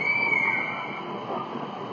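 A train running at Chatswood station gives a steady, even rumble of rolling cars, with a thin high wheel squeal that sounds briefly early on over a constant station hum.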